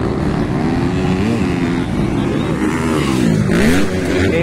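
Motorcycle engines rev hard during a novice open drag race, a loud, close, continuous whine rising and falling in pitch as the bikes accelerate.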